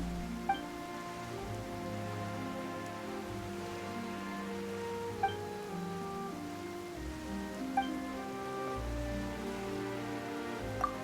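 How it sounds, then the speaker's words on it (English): Steady rain in the video game Genshin Impact patters on a surface, with a soft low rumble underneath and a few faint chiming tones every few seconds; no voices. "Why is it raining all of a sudden?"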